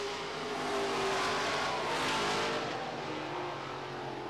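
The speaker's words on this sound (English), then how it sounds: "They are side by side, and right on the back bumper of Scott Sargent." Race cars run side by side on an oval track, a dense continuous engine roar that swells slightly and then eases, heard from a distance with no voices.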